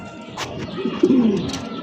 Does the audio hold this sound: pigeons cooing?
yes